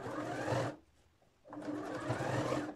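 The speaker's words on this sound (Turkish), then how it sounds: "Daha sonrasında overlock'a geçiyorum." Overlock machine stitching the seam of a child's gathered dress, two steady close runs of mechanical whirring separated by a short pause, with no voices.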